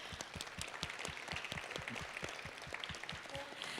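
A conference audience applauds the event's helpers, with dense, steady clapping from many hands sustained throughout, moderately loud and close.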